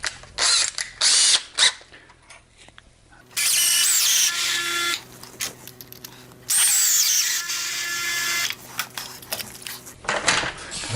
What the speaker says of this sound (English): And a couple quick pilot holes so the legs don't split.